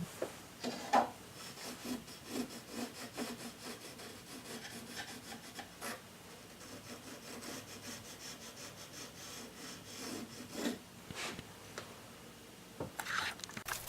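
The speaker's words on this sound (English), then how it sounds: "Penciling in the center line along the stem." A pencil draws a center line along the wooden stem of a small pontoon under construction, making a close, steady scratching and rubbing with repeated back-and-forth strokes and no talk.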